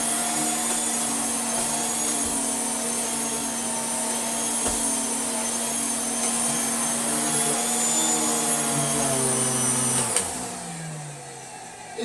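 A Turbo 300 vacuum cleaner runs steadily on a floor, giving a loud, constant whine and motor drone close by. The tone shifts slightly near the end as the machine is turned down, and no one talks.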